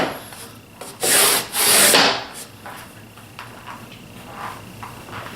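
Wooden sliding doors on an angled cabinet rub and scrape along their unlubricated tracks in two loud strokes, close up, followed by softer knocks and rubbing.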